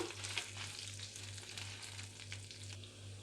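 Peeled garlic cloves frying in hot oil for a village-style tamarind chutney, a steady close sizzle with crackling bursts running throughout, a low hum underneath and no voices.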